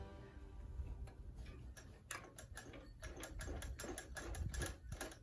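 A Singer 20U style sewing machine stitches embroidery with thick thread, a quick run of sharp mechanical ticks that speeds into a steady clatter over a low motor hum, close and fairly quiet.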